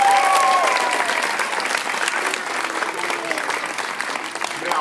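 A young audience at a school gathering claps in a sustained round of applause, loud and even throughout, with faint voices and cheers mixed into the clapping.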